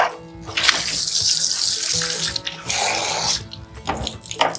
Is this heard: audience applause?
no